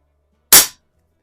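A single sharp shot from an Air Venturi Alpha compact air pistol, loud and close, with a quick crack that decays within a fraction of a second, alone in silence.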